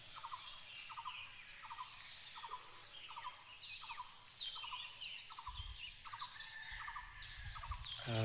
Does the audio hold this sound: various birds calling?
yes